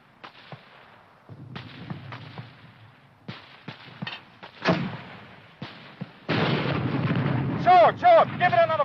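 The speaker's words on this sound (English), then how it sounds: "Hurry up with that mortar" Mortar and artillery fire in a 1951 war film: scattered sharp blasts and thuds near and far, building to a sustained rumbling barrage, with whistling shell tones near the end and voices speaking in between.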